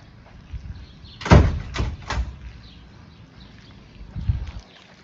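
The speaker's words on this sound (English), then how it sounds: "I'm locking my door." A door swings shut with a firm thud, followed by a couple of quieter clicks and knocks as it is locked, then another soft bump a few seconds later, all fairly close in a quiet room.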